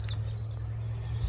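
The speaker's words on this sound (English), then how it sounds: "These are actually parrots." Parrots call outdoors in a Sydney suburb near a bus stop, with short, bright chirps rising over a constant low traffic hum.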